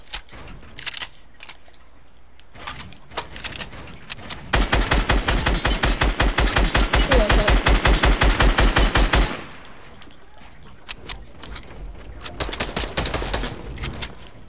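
Gunfire in a shooter video game: scattered single shots, then a long rapid automatic burst of about five seconds, loud and close, followed by more sporadic shots.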